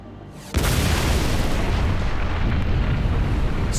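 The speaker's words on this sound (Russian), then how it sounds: "29 августа 1949 года на Семипалатинском полигоне прошла испытание атомная бомба" The 1949 Soviet RDS-1 atomic bomb test at the Semipalatinsk test site hits with a sudden massive boom after a short quiet lead-in. A loud, dense, continuous roar then sustains to the end.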